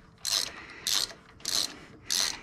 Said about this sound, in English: I'll have to pull the Torque-a-Torque wrench out.